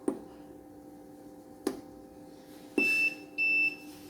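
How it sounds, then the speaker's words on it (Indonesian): The buzzer of an FT-Series 3000-watt pure sine wave inverter sounds as two close, sharp high-pitched beeps, each about a third of a second, after three soft button clicks under a steady low electrical hum. "Untuk mengaktifkan buzzer, kita pencet ini 1 detik."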